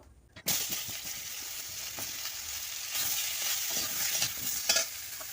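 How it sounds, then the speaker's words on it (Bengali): Vegetables sautéed in hot oil in a kadai after fish was fried in the same oil, a loud continuous close sizzle with repeated stirring scrapes, no talk. "ওই তেলে আমি এই সবজিগুলো কষে নেব"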